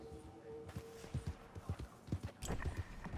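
Hooves of a horse in Red Dead Online clop in a quick irregular rhythm, fairly faint and close, with no talk over them.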